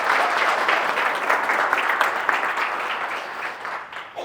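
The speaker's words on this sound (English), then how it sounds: "Round of applause, please" Keynote audience applause, a dense, steady wash of many hands clapping that holds for several seconds and gradually tapers.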